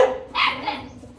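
Dogs in a kennel react to a newly arrived Gultair puppy with a single sharp, close bark rising over a fading earlier yelp, loud and alone.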